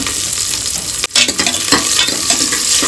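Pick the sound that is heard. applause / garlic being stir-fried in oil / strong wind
garlic being stir-fried in oil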